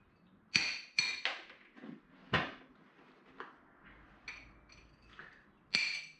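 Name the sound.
hammering while cutting a motorbike exhaust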